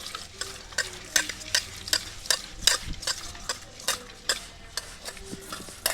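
Whole sardines rubbed and scrubbed clean by hand inside a metal pot, giving a steady run of brisk, close scraping and swishing strokes in a regular rhythm, with no talking.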